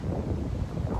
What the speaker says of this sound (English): So it become really, really windy